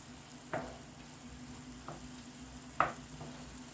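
Ketchup being stirred into a hot frying pan, a soft continuous sizzle with a few scraping clinks of a utensil against the pan, quiet and close with no talking.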